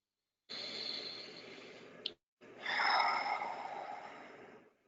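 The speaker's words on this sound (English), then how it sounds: "Deep breath." A slow, deep breath drawn in and let out close by, a soft airy rush with a brief pause between inhale and exhale, alone with no talking.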